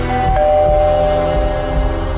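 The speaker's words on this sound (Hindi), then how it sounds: "उस रात हमारे घर के दरवाजे पे एक घंटी बजी।" A doorbell at a house door gives a single bright electronic chime that rings out for about a second over a loud, dense background of music or ambience, with no talking.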